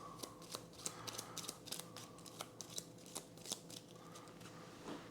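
A deck of game cards riffled and shuffled at a tabletop session, a quick run of crisp flicking snaps with short pauses between bursts, close and fairly quiet, no voices.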